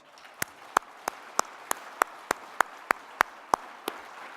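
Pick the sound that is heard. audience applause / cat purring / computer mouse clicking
audience applause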